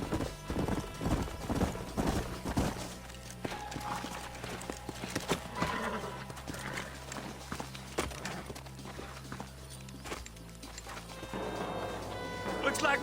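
Horse hooves clip-clop steadily in Red Dead Redemption on PS4, several horses walking close by with a brief whinny, under game music and ambient noise.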